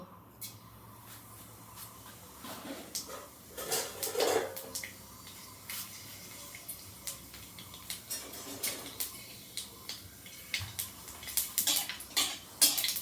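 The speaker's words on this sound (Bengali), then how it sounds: "ফোড়নটা ভেজে নিই" Panch phoron spices crackle and sputter in hot mustard oil in a wok, with scattered sharp pops and occasional metallic clinks of a utensil over a steady low sizzle, no voices.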